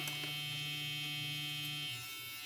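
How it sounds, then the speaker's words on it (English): A small craft device set flat on a workspace gives off a steady electric buzz with a low hum, continuous and close, easing slightly near the end. "there's this weird buzzing noises because I put it fully down on my workspace"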